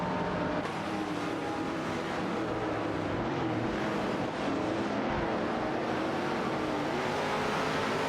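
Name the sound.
race cars in an AI racing video game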